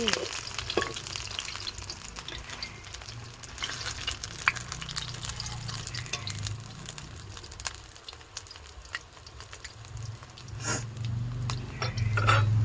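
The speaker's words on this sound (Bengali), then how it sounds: "পরের বড়াগুলো ভাজা হয়ে গিয়েছে, তেল ঝাড়িয়ে তুলে নিচ্ছি।" Bok flower fritters fry in hot oil with a steady, continuous sizzle, joined by occasional scrapes and clinks of a utensil against the pan as the fritters are lifted out.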